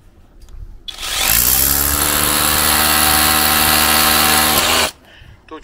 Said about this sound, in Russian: Точку отметил на стене и сверли здесь.